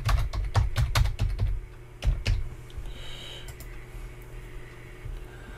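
Fast bursts of typing on a computer keyboard while entering a pop-up title in WordPress, crisp clustered key clicks in quick runs that thin out into a few scattered taps and then stop, heard close and alone.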